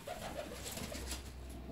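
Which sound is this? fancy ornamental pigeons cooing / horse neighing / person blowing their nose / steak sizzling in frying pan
fancy ornamental pigeons cooing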